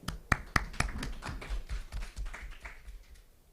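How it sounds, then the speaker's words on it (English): Applause from a conference audience after a speaker's talk at a smart farm session, a burst of several sharp claps that thins into scattered, fading clapping over a few seconds. "Please give him a big round of applause"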